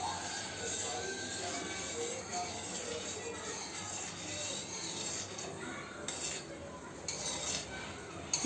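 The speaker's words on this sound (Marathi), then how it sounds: "तेल हलवल्यानंतर ॲटोमॅटिक ते गुलाबजाम पण असे हलले जातात" Gulab jamun are stirred gently in hot oil in a pan on the stove, giving a continuous sizzling hiss with faint scraping from the spoon, steady and close, with no talk.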